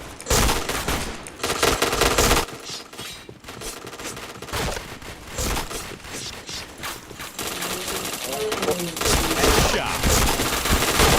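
Rapid automatic gunfire rattles loudly in a shooting video game match, bursts and sustained volleys with brief pauses between, dense and close throughout.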